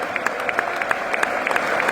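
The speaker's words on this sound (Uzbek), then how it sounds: "Cherkiyni olqishlab kuzatib qo'yishyapti." A stadium crowd at a Manchester City versus Arsenal match claps steadily for Cherki as he leaves the pitch, a dense, even wash of applause heard from a distance.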